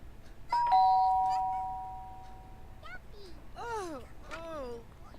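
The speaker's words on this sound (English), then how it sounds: "Ring the doorbell." A doorbell in The Sims 3 gives a clear two-tone chime that rings out and slowly decays, followed by short, chirpy, gibberish-like character voices.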